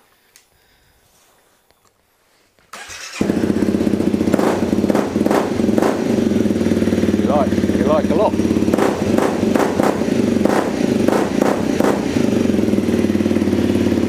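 A Honda CRF250L dirt bike fitted with an FMF Q4 exhaust starts after a stretch of silence, then runs with a steady, loud, close engine drone and a few sharp throttle blips. A brief voice comes in partway through.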